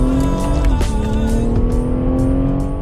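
BMW M140i launching hard in second gear, engine roaring loud and steady close by with a brief chirp of tyre wheelspin, no talk over it.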